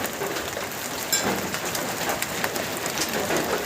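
Heavy rain with hail pours down outdoors, a dense continuous hiss and patter with scattered sharper taps, steady and fairly loud throughout with no voices.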